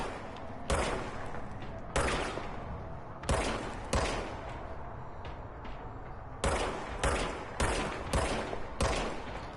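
Gunfire in the video game Control rings out in sharp repeated bursts, some single shots and some rapid volleys, loud and close with brief lulls between them.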